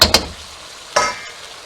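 Chicken stir fry sizzles in a hot pan for a Filipino pinirito ang manok, in a few sharp, close bursts of frying with quieter crackle in between.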